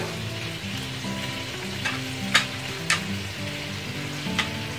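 Salmon pieces sear in a hot pan with a steady, close sizzle of frying, broken by a few sharp clinks and scrapes of stirring; no one talks.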